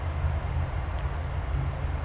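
Norfolk Southern freight train NS 8114 approaches, heard as a steady, deep, low rumble that is still some distance off, with no horn yet and no voices.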